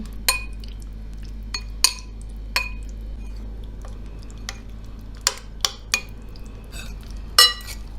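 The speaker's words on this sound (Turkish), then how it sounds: "Şöyle karıştıralım bir güzel." A spoon stirs pomegranate molasses into a cooked black-eyed pea dish, giving sparse, sharp clinks and taps against the bowl with quiet gaps between them.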